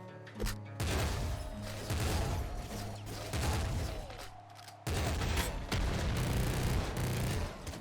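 A heavy machine gun in the game Nuclear Throne fires in dense, rapid bursts, continuous loud gunfire with a brief break midway before resuming, over a hum of game audio and a speaking voice.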